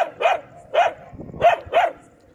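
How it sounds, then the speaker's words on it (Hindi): Dogs bark at feeding time during a lockdown street-feeding round: four sharp, evenly spaced barks, fairly close and loud, with no talking over them. "ये बंटी और बबली है जो भौंक रहे"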